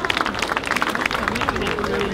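An audience claps for a singer at Orientizzati, a Japanese festival in Spotorno. The applause is a dense, steady patter of many hands throughout, with crowd voices mixed underneath.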